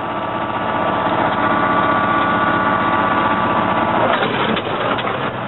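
A tractor engine runs steadily with the power take-off engaged, a continuous close mechanical hum with a rhythmic vibration, and the tone changes slightly near the end.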